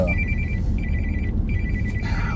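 A mobile phone rings outdoors during a wildfire trip between Jenks Lake and Seven Oaks, its steady electronic tone repeating in three bursts over a low, constant rumble of wind or engine noise.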